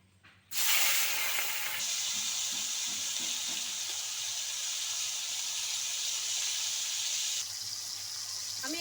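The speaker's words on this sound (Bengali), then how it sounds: "তেলটা খুব ভালো করে গরম করে নিয়েছি আমি প্রথমে চিংড়ি মাছটা ভেজে নেবো" Prawns drop into well-heated oil in a wok and burst into a loud, sudden hiss that stays as a steady, close sizzle before easing slightly near the end. There is almost no speech.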